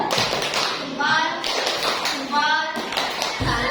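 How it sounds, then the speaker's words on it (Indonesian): Indonesian fifth-grade classroom children performing a rhythmic 'tepuk salut' clap routine, with patterned bursts of claps and taps mixed with loud chanting children's voices, close by. "Silakan beri tepuk salut buat Mbak Hilma."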